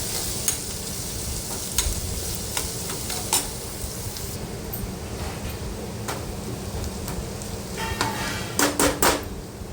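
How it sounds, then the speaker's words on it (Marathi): Finely chopped onion being sautéed in a home kitchen pan, a steady close sizzle with intermittent scraping and stirring clicks from a spatula, sharper taps toward the end. "कांदा आपला व्यवस्थित परतून झालेला आहे"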